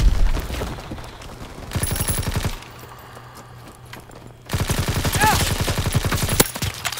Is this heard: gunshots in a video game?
yes